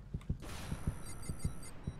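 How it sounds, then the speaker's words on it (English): Low-health heartbeat in the video game Loadout, a steady run of deep paired thumps at a quick, even rhythm, loud and close over faint game ambience. "I can hear my heart beating."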